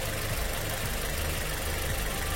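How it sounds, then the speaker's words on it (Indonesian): A car engine idles just after its fuel injectors were swapped for ones with more spray holes, a steady low rumble with a faint regular knock-like pulse, close and unbroken, with no talking. "Tapi ini belum kerasa mungkin karena baru nyala ya, masih idle."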